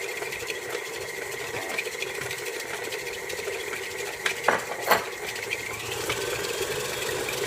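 An electric mixer creams softened butter with sugar for muffins, a steady close whirring hum with bowl rattle, and a few sharper clanks near the end.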